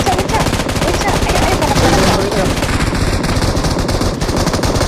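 Rapid, dense automatic gunfire rattles continuously in a PUBG Mobile match, loud and close, with bursts overlapping throughout and voices faintly present underneath.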